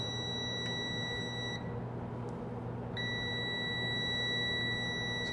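A multimeter's continuity-test beep sounds as a steady high-pitched electronic tone, cuts out for about a second and a half, then resumes, over a low background hum.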